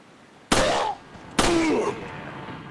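Two loud gunshots in Resident Evil 4, about a second apart, each with a short ringing decay.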